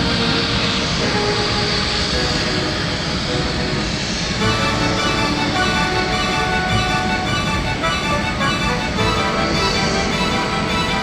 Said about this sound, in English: an incredibly rare McDonnell Douglas MD-11F Tri-Jet, painted for UPS